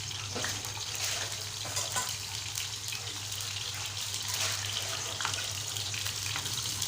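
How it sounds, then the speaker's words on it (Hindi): Steady hissing sizzle of finely chopped garlic frying in hot oil, constant and fairly loud with faint clinks, no talking. "ऑयल में मैंने लहसुन को छोटी छोटी कटिंग करके डाल दिया है।"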